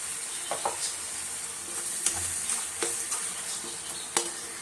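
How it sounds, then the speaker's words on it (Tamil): Onion and tomato paste sauté in oil with a soft, continuous sizzle and hiss, broken by scattered utensil scrapes and taps against the pan; close, moderate in level, without voices. "இப்போ இந்த வெங்காயம் தக்காளி நல்லா ஒரு எண்ணெய் பிரிஞ்சு வர அளவுக்கு நல்லா வதங்கணும்"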